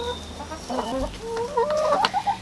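Several chickens cluck close by in a coop in overlapping, irregular bursts, with a few louder squawks toward the end.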